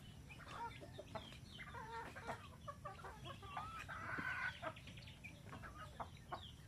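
Chickens cluck on a farm in the morning, with a steady run of short, soft clucks from several birds at a moderate distance and no talking.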